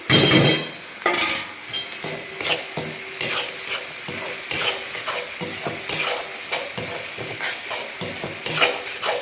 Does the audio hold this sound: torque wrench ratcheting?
no